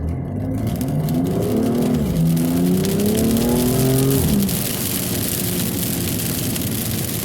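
A BMW M2 (F87) is driven hard around a tight autocross slalom course, its engine droning loud and steady as revs climb and dip through the cones, with no talking over it.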